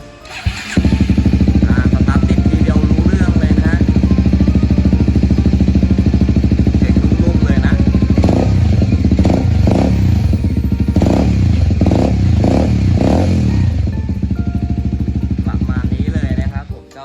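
A 2014/15 Kawasaki Z250SL ABS with a modified aftermarket exhaust and 41,000 km on it starts up loudly, idles with a deep, throbbing burble, then gets several sharp blips of the throttle before settling back to idle.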